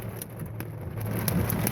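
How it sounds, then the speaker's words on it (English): Rain and pea-sized hail from a strong thunderstorm in Reno, Nevada patter steadily on a vehicle, with sharper ticks of hailstones rising over a dense roar that builds slightly. "yeah, we have pea-sized hail here"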